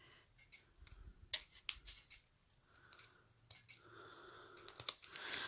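Scissors snip repeatedly in short crisp cuts, close up, with irregular pauses between bursts and no talking.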